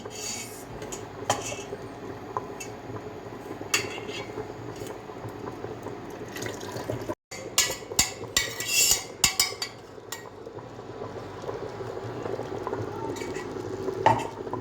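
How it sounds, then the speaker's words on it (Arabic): Fried meat scraped and tipped into a pot of pasta, with spoon clinks and metal scraping over a low background bubble, a brief pause midway, then a louder clatter of pan and utensil contact. "وانا حمصت اللحمه وبدي افضيه."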